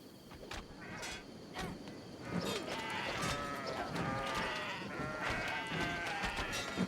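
Goats bleating in the video game Kenshi, several overlapping bleats over busy game ambience with a faint insect-like buzz, fairly loud and continuous, under occasional talk.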